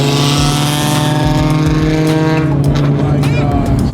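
A loud supercar engine revs close by, holding a strong, throaty sustained drone that swells and shifts as the throttle rises toward the end.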